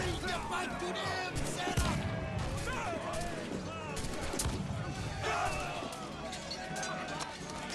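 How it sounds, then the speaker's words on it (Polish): Cannon shots and battle din fill an Assassin's Creed IV Black Flag naval boarding fight, with several heavy blasts and crashes amid a busy roar, under steady talking throughout. "Czy prywatna armatka Adewajla wszystko załatwi?"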